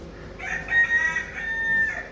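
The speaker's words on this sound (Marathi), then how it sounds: "कोंबडा बघा आमचा कसं बांग देते" A rooster crows once, a loud drawn-out call close by, rising and holding before trailing off, with no other voices.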